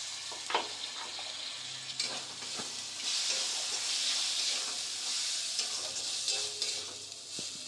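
Chopped tomato sizzles and hisses in a hot pan as it is stirred, with a loud, continuous frying hiss broken by occasional spoon scrapes.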